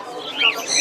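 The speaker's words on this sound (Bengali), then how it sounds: "আর এই বাজিগার পাখিগুলো?" Budgerigars chirp in cages at a busy Dhaka bird market, a quick burst of high, bright warbling tweets close by over low crowd murmur.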